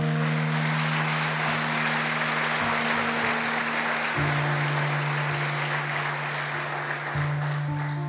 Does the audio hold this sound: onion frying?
no